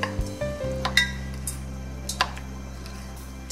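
Vegetables being mixed into pakora batter in a bowl, with a few light clinks and scrapes of a spoon against the bowl over a steady low hum, close and fairly quiet.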